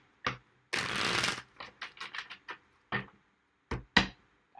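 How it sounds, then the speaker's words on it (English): Tarot cards being shuffled up close: a long, dense riffle burst followed by a run of short, crisp flicks and taps with brief gaps between them, with no voices. "2 more shuffles"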